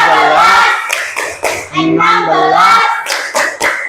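Children in a classroom clap their hands in time while chanting numbers aloud, sharp clap bursts interleaved with steady group voices, close and loud.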